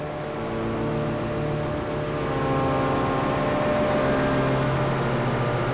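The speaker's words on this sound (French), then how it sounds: "Plus je tourne vers là, plus c'est de l'écho, et là, plus c'est de la reverb." A steady synthesizer drone from a rare GmeBogosse4M synth, with stacked harmonic tones, smeared by echo and reverb into a thick, sustained wash at an even level.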